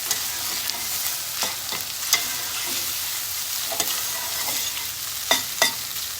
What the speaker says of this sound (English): this will help deglaze the pan and bring all that up